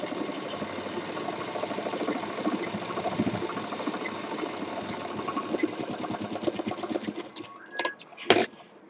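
A sewing machine stitching a simple cloth bag hums steadily at close range with a fast, even rhythm, sputtering toward the end with a few clicks and a sharp knock.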